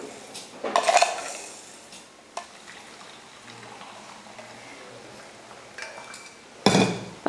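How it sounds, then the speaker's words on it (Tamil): Sugar being stirred into freshly strained tea at home, with a few sharp metal vessel clinks and clatters spaced across a quiet kitchen background. "இப்போ சக்கரை போட்டு ஆற்றிக்கலாம்."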